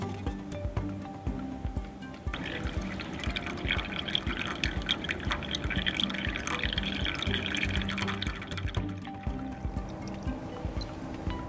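Water draining out through a hole in a pot used as an ancient-style water clock, a steady trickling and dripping stream with a fuller pouring stretch in the middle, close and continuous throughout.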